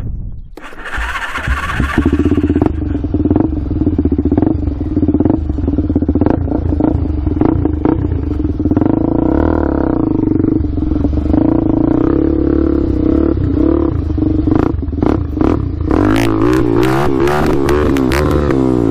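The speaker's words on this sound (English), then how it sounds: "See how it hits that rev limiter?" A Suzuki LTZ400 quad's engine clatters at idle, then revs repeatedly, rising and falling in pitch, and bounces hard against the rev limiter in rapid stuttering bursts near the end. The sound is loud and close, with no talking.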